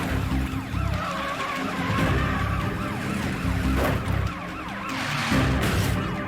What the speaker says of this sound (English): The police cruiser slams into the truck's bumper